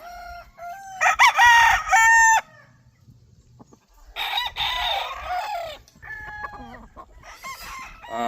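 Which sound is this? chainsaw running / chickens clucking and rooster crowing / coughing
chickens clucking and rooster crowing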